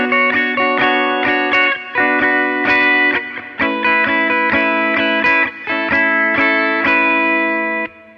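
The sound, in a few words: guitar playing main intro of a song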